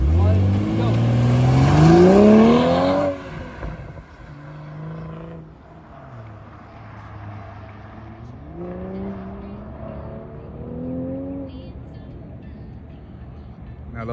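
A powerful 2022 BMW engine revs hard at a track event with rising pitch, then drops to a lower, steady drone with a few more rising surges as it keeps accelerating.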